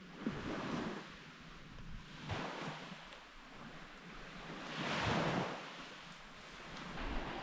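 Gentle Lake Baikal waves wash and slosh nearby in slow surges around a kayak, with a soft breeze in the background and no voices.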